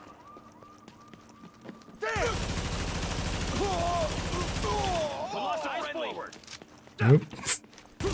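Close-range gunfire in The Division video game, including a shotgun right beside the player, erupts as a loud dense burst lasting about three seconds, followed by sparser sharp hits while someone talks.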